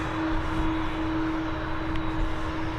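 Mitsubishi CRJ 900ER regional jet operated by X-Fly, bound for Copenhagen from Dublin Airport, a brief, steady, fairly loud engine drone with a sustained whine running through it, heard alone without voices.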